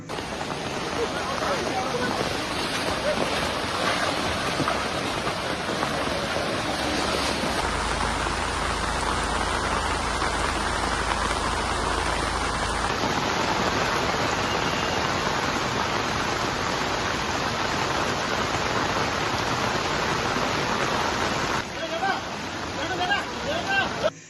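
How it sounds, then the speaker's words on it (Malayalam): Heavy rain pours in a steady, dense hiss, blended with the continuous roar of the Kariyankode river overflowing its banks in Kerala. "കനത്ത മഴയെ തുടർന്ന് കാര്യങ്കോട് പുഴ കരകവിഞ്ഞ് ഒഴുകുകയാണ്"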